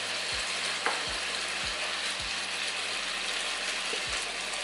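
Diced pieces sizzling and frying in butter in a pan for a tomato basil pasta, a steady crackling hiss punctuated by about six soft stirring knocks, close and alone.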